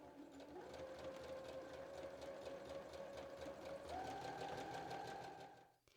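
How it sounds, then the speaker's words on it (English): A sewing machine stitching the side seam of a dress runs in a steady, even whir for several seconds, its pitch stepping up slightly midway before it stops; fairly quiet and close, with no voices. "I'm ready to sew the side seam, so I'll put my presser foot down, hold the thread tails, both of them, needle down, and start sewing"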